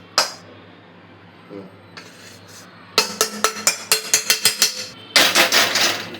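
Sukhdi mixture is scraped out of a pan onto an oiled plate, making a close series of sharp metallic scrapes and knocks in quick repeated strokes, louder toward the end.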